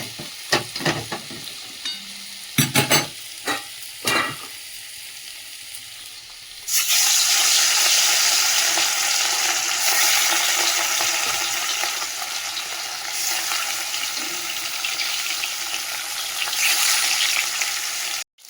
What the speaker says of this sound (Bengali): এদিকে তেলটা গরম হয়ে গেছে, মাছটা দিয়ে দেবো।